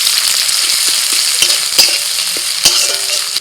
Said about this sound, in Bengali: কড়াই অল্প তেল দিয়ে দিয়ে দিচ্ছি কালো জিরে, ওর সাথে দিচ্ছি পেঁয়াজ কুচি।